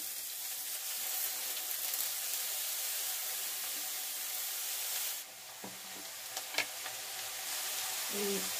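Mixed leafy greens hit a hot pan of local pond prawns for a Bengali shak ghonto, with a steady loud sizzle that drops briefly as they go in, then continues with a few stirring scrapes and clinks.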